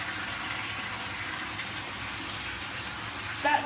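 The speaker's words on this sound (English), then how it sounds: "You should put the valve to the bed wash condition and turn on the raw water pump to manual condition." Water rushes steadily through a treatment system filter during a bed wash cycle, a constant, moderately quiet hiss and gush with no talking.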